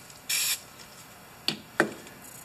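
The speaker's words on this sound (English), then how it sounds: "Spray this thing down." Silicone spray from an aerosol can hitting a rubber W126 lower control arm bushing being fitted to a Mercedes W123: one short hissing burst, then two quicker spurts a moment later, in a quiet workshop.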